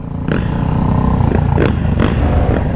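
Dirt bike engines rumble and rev loudly and steadily throughout on city streets, with a few sharper throttle bursts rising above the low, continuous drone.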